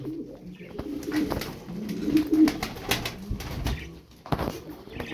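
Tumbler pigeons in a loft coo in low, throaty bursts close by, mixed with brief wing flutters and scuffling, the calls rising and falling unevenly without any speech.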